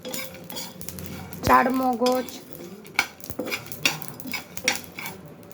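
Mixed nuts, including almonds, cashews, peanuts and melon seeds, are dry roasted in a pan, with a spoon scraping and stirring in sharp metallic clinks and rattles, and a voice speaking briefly.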